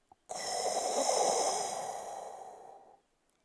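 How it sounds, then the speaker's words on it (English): Elephants at a river sucking water up into their trunks, one long, steady, breathy rushing draw lasting nearly three seconds, close and fairly loud, then silence. "As they suck up water in their trunks, it sounds like this."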